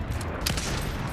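Burst of rapid gunfire from the battle royale video game Fortnite, a dense crackling volley running loud and continuous through the short stretch with no talking.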